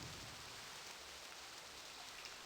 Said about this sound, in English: I definitely remember the rain here